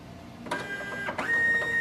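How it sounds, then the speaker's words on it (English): A Canon ImageClass MF643Cdw printer scanning: a quiet mechanical whir starts, with brief clicks and a steady tonal hum from the scan motor that grows slightly louder, heard alone. "Automatically it will start the scanning"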